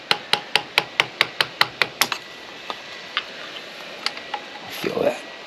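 Wrench tightening 8mm bolts on clip-on handlebars of a 1983 Honda Magna, a quick run of about ten evenly spaced sharp ratchet clicks, followed by scattered softer clicks and faint handling noise.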